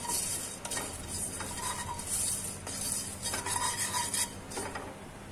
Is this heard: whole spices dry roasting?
yes